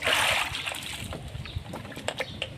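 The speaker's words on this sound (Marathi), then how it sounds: "तर बघा, अशी अद्रक धुवून घ्यायची, पाण्यामध्ये थोड्या वेळ टाकली की त्याची पूर्ण माती ही बऱ्यापैकी निघून जाते" Fresh farm-dug ginger being washed in water to loosen the soil, with close splashing and sloshing followed by irregular drips and light trickles.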